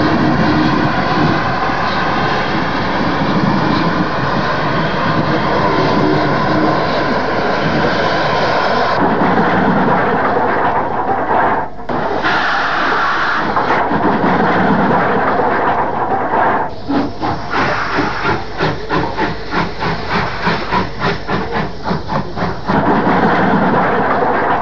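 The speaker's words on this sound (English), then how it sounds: "And Battle of Britain class number 34071, 601 Squadron," A rebuilt Battle of Britain class steam locomotive, number 34071 '601 Squadron', passes close by with a loud, continuous roar that turns into rapid rhythmic beats toward the end.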